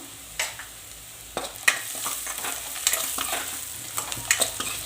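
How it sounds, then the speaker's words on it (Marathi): Hadga flowers are stirred with salt in a hot pan, making a steady frying sizzle broken by several close scraping strokes of the spoon, with no talking. "छान मिक्स करून घ्यायचं"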